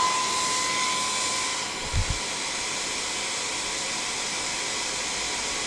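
A Philips Active Cool HP3462 hair dryer blows on its low heat setting, giving a steady, even airflow hiss and whir throughout, close and alone apart from a brief low thump midway.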